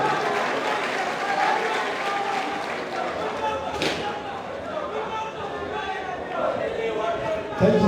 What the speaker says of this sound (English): Please, let's give a hands of applause for the man.